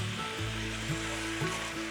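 Pan-fried wheat gluten sausage being quickly stir-fried in a sauce with a little water and soy sauce, a soft steady sizzle with faint scraping strokes of the spatula.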